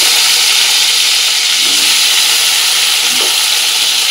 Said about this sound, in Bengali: আলু সমস্ত কিছু ভেজে নেবো।